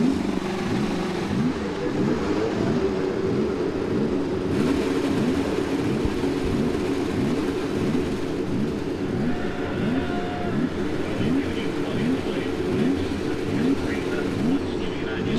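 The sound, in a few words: IndyCar race car engines starting up on the grid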